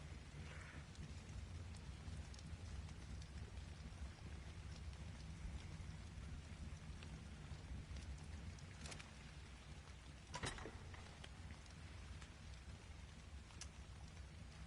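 Soft, continuous rainfall in the video game Ark, near a campfire, with a low rumbling bed and occasional sharper drip-like ticks, faint and steady throughout.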